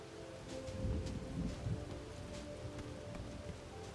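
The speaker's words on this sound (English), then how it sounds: "Oh, it's raining." Steady rain falling in the video game Bugsnax, a continuous soft hiss of drops with a low rumbling wash underneath, fairly even throughout with no voices.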